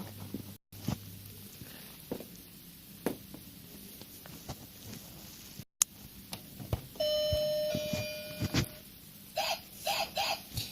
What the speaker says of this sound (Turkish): İlk işim eve dönerken servislerinin kapımın zilini çalmak.